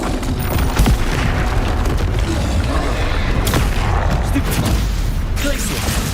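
Confringo fire spell in Hogwarts Legacy bursting amid a dense, continuous barrage of booming magical combat, with several sharp impacts over steady rumbling noise.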